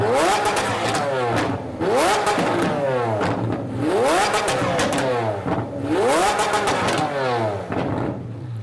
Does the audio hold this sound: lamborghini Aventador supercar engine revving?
yes